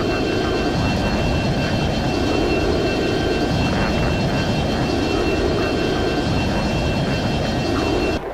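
F-35 Joint Strike Fighter jets flying in the F22 Total Air War flight game, a steady, dense engine roar with a faint whining tone, continuous and unchanging throughout.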